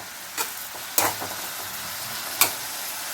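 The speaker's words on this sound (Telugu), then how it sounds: "ఇప్పుడు ఉల్లిపాయలు వేగుతూ ఉన్నాయి కదా" Chopped onions fry for chicken curry in a pan with a steady close-up sizzle, broken by three sharp spoon scrapes and taps as they are stirred.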